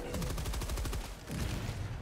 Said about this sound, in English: I've just dropped in an airstrike.